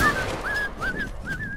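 Whistling in the Hound Automaton video game, a few short clear whistle notes bending up and down in pitch, fairly close over a low background rumble.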